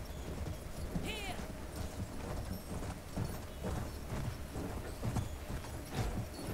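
A horse gallops in the video game Battlefield 1, its hooves beating in a quick, fairly even rhythm with a brief whinny early on, all fairly faint under game noise.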